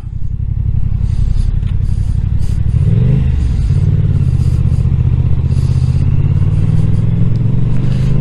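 Car exhaust revving, a loud, close, throaty rumble held continuously with a brief rise and fall in pitch midway, roaring alone throughout.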